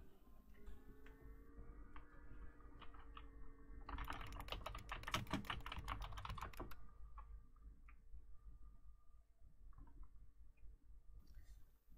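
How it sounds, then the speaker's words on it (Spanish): Software on a Linux desktop reproduces the clacky keys of a 1980s–90s IBM Model M keyboard. Quiet, irregular keystroke clicks run throughout, with a denser fast burst of typing in the middle, heard close and alone. "simulo el sonido de las teclas imitando el sonido característico del teclado IBM modelo M"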